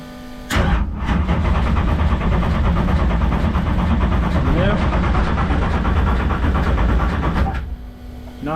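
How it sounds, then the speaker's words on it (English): A race car fitted with Holley Sniper 2 EFI cranks on its starter in a long continuous grinding churn without catching, loud and close, stopping after several seconds. "go ahead and hit the starter"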